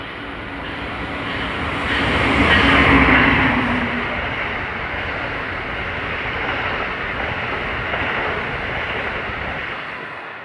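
Delayed passenger train 84 from Norfolk to New York rolls past at Secaucus Junction, New Jersey, a broad steady rumble that swells around the third second and then holds at a continuous wash of wheel and track noise.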